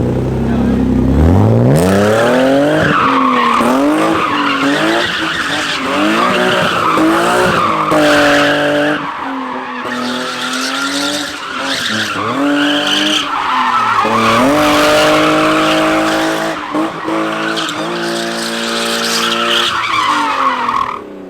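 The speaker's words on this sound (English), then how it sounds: "Just do like figure eights on the new skid pad." A car drifts figure eights on a new concrete skid pad, its engine revving and falling in repeated sweeps while tires squeal continuously, loud and close throughout.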